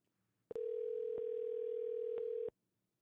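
One ring of a phone call's ringback tone, a steady buzzing tone lasting about two seconds between brief clicks, then silence.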